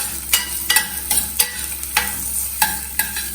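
Chopped green chillies and ginger are stirred and sautéed in a hot pan, a steady sizzle broken by about seven regular, sharp scrapes of a spoon against the pan.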